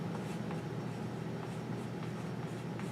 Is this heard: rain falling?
no